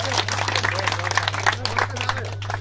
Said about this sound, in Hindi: एक बार जोरदार उनके लिए तालियां हो जाए